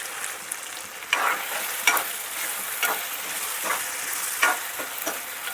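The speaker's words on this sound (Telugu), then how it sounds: "ఇదంతా కొంచెం బాగా ఫ్రై అయ్యి మగ్గాలి." Masala for a country chicken curry frying in a pan, with a continuous soft sizzle and repeated scraping strokes of a spoon stirring at an uneven rhythm, close and alone.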